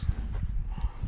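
Horse hooves clip-clopping at a resort, a near, uneven series of thudding steps with soft snorting between them.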